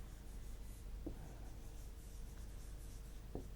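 Pen or marker writing on a surface while a database lesson is taught: steady, faint scratching strokes under a low room hiss, with a couple of sharper taps.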